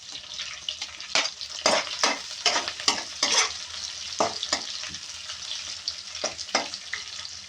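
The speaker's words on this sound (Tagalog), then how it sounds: "Hintayin natin isang minuto na mag-golden brown yung ating garlic." Garlic fries in a pan, an ongoing sizzle broken by frequent scraping strokes of a spoon or spatula stirring it, close and fairly quiet.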